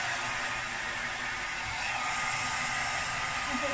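A hair dryer blows a steady, loud hiss of air that holds evenly throughout without pause.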